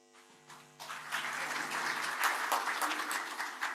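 An audience at a World Rowing congress breaks into applause, dense steady clapping from many hands filling the room, rising quickly and holding strong after a brief tonal sound fades.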